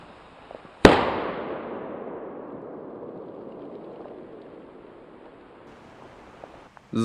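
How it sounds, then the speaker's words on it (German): A WECO Bombastica firecracker goes off in one very loud sharp bang, followed by a long crackling, hissing tail that slowly fades over several seconds, with another burst starting at the end. "Richtig, richtig, richtig geile Böller. Lauter als der große Kanonenschlag."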